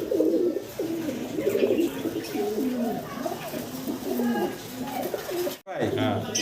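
Pigeons at a pigeon seller's place coo in soft, repeated rolling calls, fairly close, while a voice talks over them through most of the clip.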